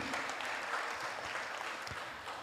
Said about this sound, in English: Can we give a big round of applause to the pujaris for putting up a festival on a weekday?